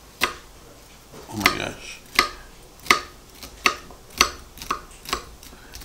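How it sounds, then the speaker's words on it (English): Utility knife from Okingjoy chopping celery on a cutting board: seven or eight crisp, evenly spaced cuts land close and sharp, one after another, and a voice briefly exclaims partway through. "We're going to cut celery first."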